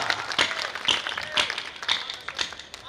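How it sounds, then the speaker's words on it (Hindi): Applause from the audience at a Hindi kavi sammelan poetry recital, a steady patter of many hands clapping at moderate loudness with faint crowd noise beneath. "जरा आसमान में हाथ उठाकर देर तक तालियों की गड़गड़ाहट आपकी हो"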